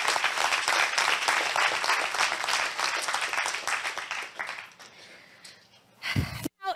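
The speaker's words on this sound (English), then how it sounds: "So if I need a round of applause just for all of the organizers," A conference audience applauds the organizers at a keynote session, a dense burst of clapping that fades after about five seconds, followed by a brief loud noise near the end.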